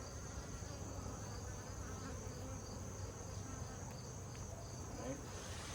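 Honeybees drone in a steady, dense buzz throughout a late-summer beehive inspection, close and continuous with no talk over it.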